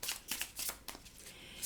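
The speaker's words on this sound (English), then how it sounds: "I'm just going to shuffle" A deck of Kipper fortune-telling cards is shuffled by hand, giving soft, quick riffling bursts in an uneven rhythm, quiet and close with no talk.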